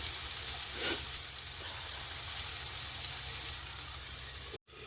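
Curry masala fries in oil in a covered pot, giving a steady, even sizzle and hiss that runs throughout without a break, ending with a sudden brief cutoff.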